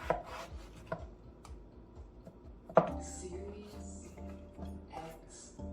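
A knife slices potatoes into fries on a cutting board, giving a few sharp chops and cuts spaced irregularly. They are close and fairly quiet, and a person speaks between them.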